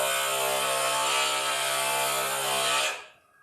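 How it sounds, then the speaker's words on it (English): Stained glass grinder grinding a piece of stained glass under pressure, a steady, loud, whirring rasp lasting about three seconds before spinning down and fading out. "You have to put some pressure and then it will grind"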